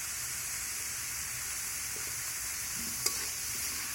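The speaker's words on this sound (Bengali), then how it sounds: "এই মশলাগুলো দিয়ে ভেজে নেব" Spices with red chilli powder fry in a pan, giving a soft, even sizzling hiss with a few faint scrapes and one small click near the end.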